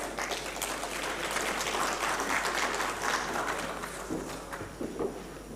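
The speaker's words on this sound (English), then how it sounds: "Can I have a big round of applause?" An audience at a medical conference breaks into sustained applause, a dense, even clatter of many hands that fills the room and tapers slightly near the end.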